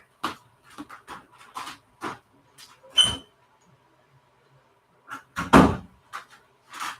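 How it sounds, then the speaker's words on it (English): A door is shut indoors at home, giving a couple of sharp thumps and knocks amid scattered small clatters and handling noises, fairly close and alone with no talk. "why did you close that door?"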